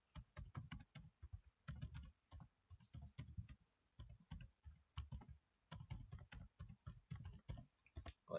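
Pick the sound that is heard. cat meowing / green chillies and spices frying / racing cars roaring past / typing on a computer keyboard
typing on a computer keyboard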